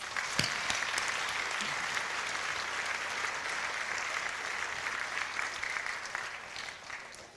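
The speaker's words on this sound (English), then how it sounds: "So give yourselves a round of applause." Steady crowd applause fills a Martin Luther King Day community walk event, sustained and dense for several seconds before easing slightly at the end.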